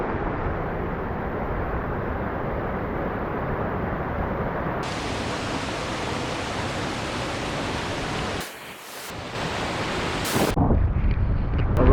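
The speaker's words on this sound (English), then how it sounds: "Now it's a bit more windy." Steady, heavy wind by a river at Chutes Monte-à-Peine roars and buffets the microphone, dipping briefly before surging louder again toward the end.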